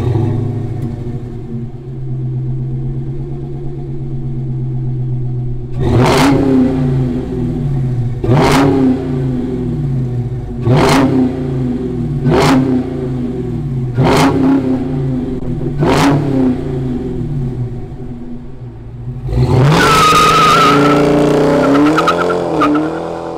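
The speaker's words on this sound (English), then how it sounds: "Let's fire up this Hellcat and hear its roar." A 2021 Dodge Charger Hellcat Redeye with Flowmaster exhaust idles with a deep burble, then roars through six sharp revs spaced a couple of seconds apart, and ends with a longer loud rev, close and powerful.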